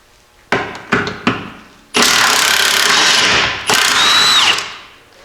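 Work on a stuck nut on a vehicle's track bar: three sharp ratchet or impact bursts, then a loud sustained power-tool whine lasting a couple of seconds, a brief pause, and a second long burst that winds down, close up with no talk.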